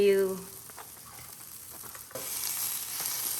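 Banh khot, small savory Vietnamese mini pancakes, sizzle and fry steadily in a non-stick electric pan, the hiss growing a little louder and brighter partway through, with no talk over it.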